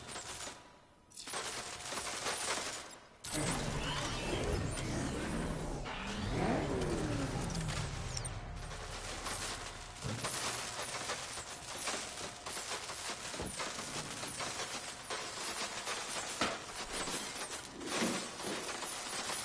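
A tank in the Batman Arkham Knight video game fires heavy rounds: loud, broadband booms rise over a rumbling, revving engine, with repeated blasts spread across a busy battle soundscape.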